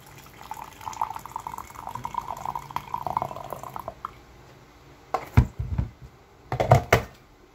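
Lukewarm water runs from a tap into a container with Himalayan salt for several seconds, then a few separate splashes and pours follow, close by.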